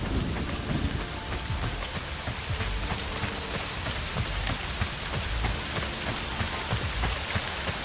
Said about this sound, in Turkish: yağmurlu havaya efekt çok güzelmiş bu arada var ya